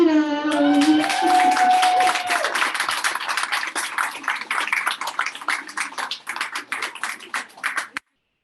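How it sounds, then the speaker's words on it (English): Audience applause at an alumni pitch competition, starting under a speaking voice and swelling into dense clapping before thinning to scattered claps and stopping abruptly. "let's give all of our finalists a round of applause"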